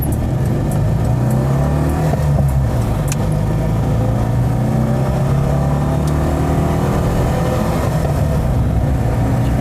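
A 1983 Citroën Visa Spécial's air-cooled twin-cylinder engine, with a 2CV-like thrum, droning steadily and loudly from inside the car as it accelerates and shifts through revs.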